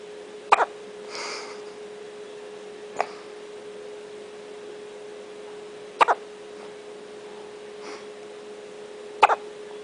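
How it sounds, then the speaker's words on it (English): A baby hiccups four times at uneven intervals. Each hiccup is a short, sharp, close sound over a steady low background hum. "You got the hiccups."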